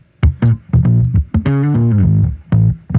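A bass guitar plays through a preset in NI Guitar Rig 6, a series of distorted, punchy plucked notes in a short, rhythmic phrase.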